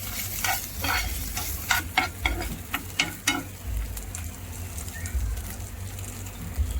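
Potatoes stirred in a hot pan while frying, giving a steady sizzle with clinking scrapes of a spoon close by, as peanut crumbs are added for a Maharashtrian fasting dish.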